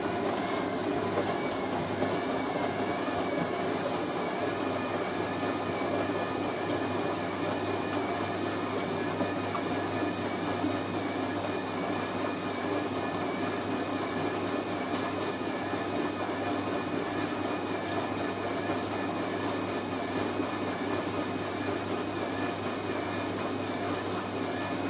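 A washing machine on an intermediate spin cycle hums and whines steadily at high speed, a dense continuous mechanical drone with water and drum rumble throughout, fairly loud and close, with no talking.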